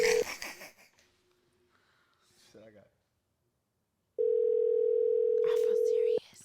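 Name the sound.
phone call ringing with no answer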